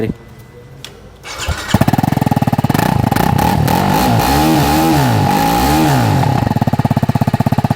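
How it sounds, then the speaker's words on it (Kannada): A TVS Apache RTR 310 motorcycle engine starts and roars into a loud, rough idle, its exhaust revving up and down before settling into rapid chugging pulses. "ಇದ್ರದ್ದು ಎಕ್ಸಾಸ್ಟ್ ಒಂದು ಸೌಂಡ್ ಕೇಳಿಸ್ಕೊಳ"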